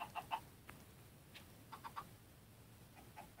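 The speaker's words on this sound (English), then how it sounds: "Help me push the chicken in the hole." Chicken in Minecraft clucking in several short bursts with pauses between them, fairly quiet and with no talk over it.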